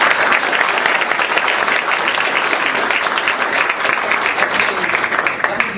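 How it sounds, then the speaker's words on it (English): A loud round of applause from a town hall audience for the mayor, thick continuous clapping close by with a few sharper claps standing out, steady throughout. "How about a round of applause?"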